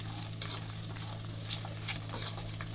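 Peanuts sautéed in a pan alongside cashews and curry leaves for upma, a constant close sizzle with scattered stirring scrapes and rattles, a low steady hum beneath, no voices.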